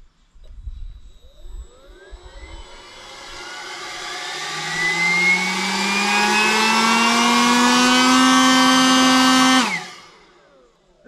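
A cheap no-name leaf blower's motor whines up from a low hum, rising steadily in pitch and loudness over several seconds to a loud, steady full-power roar, then cuts off abruptly.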